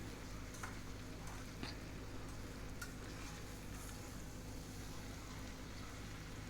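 Jackfruit sabji with salt is stirred in a pan, giving a quiet, steady frying sizzle with soft occasional scraping from the stirring, no voices.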